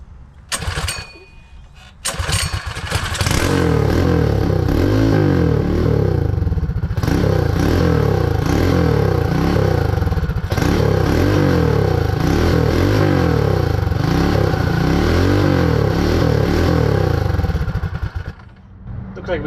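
A Predator 224 Hemi small engine fires up and runs loudly, clattering and revving steadily for most of the stretch before cutting out near the end, with a leaking, backfiring build close by.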